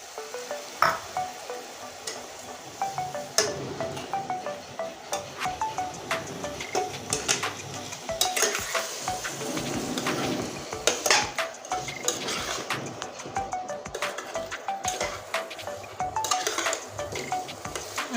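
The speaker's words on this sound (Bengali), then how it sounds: "এবার মশলা কষতে কষতে এবার আমটাও দিয়ে দিচ্ছি" Metal utensil scraping and clinking steadily against a pan while spices and raw green mango sizzle quietly underneath, repeated stirring strokes throughout with no talking.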